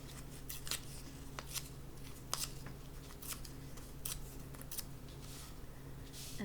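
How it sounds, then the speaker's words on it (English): Paper strips torn for a torn-paper wreath collage, heard as several short, crisp rips spaced irregularly over a quiet room hum. The sounds are close and fairly soft, and no one speaks. "when I run out, I rip another strip, I tear it apart"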